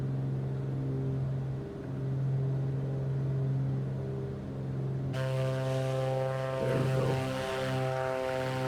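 Piston Duke twin propeller aircraft in Microsoft Flight Simulator, a steady droning engine hum with strong low tones that brightens and gains a buzzy propeller edge partway through as the view shifts.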